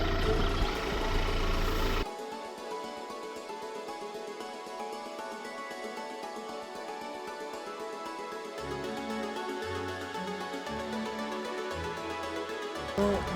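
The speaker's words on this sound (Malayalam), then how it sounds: "വളരെ സൈലൻ്റ് ആയിട്ടുള്ള എന്നാൽ നല്ലൊരു എൻജിൻ നോട്ടാണ് ഇതിൻ്റെത്. ഒരു 2 ലിറ്റർ ഡീസൽ എൻജിൻ" A Ford Tourneo Custom van's 2-litre diesel engine of about 168 bhp idles quietly, giving a steady low, even hum after a brief louder burst at the start, with no voices.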